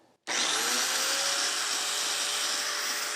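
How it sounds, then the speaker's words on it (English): An angle grinder running on an Oukitel P2001 portable power station starts abruptly and spins up to a loud, steady high-pitched whine that holds unbroken to the end. "Step number two, angle grinder."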